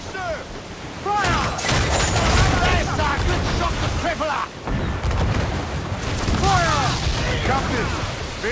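Heavy cannon broadsides boom from a pirate warship during a naval battle in Assassin's Creed IV: Black Flag, loud overlapping blasts rolling over roaring sea and ship noise while voices talk throughout.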